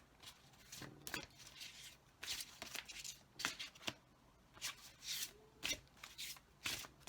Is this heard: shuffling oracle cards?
yes